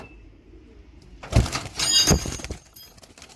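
Domestic breeding pigeons in a loft give soft, low coos, with a couple of sharp fluttering bursts close by and no voices.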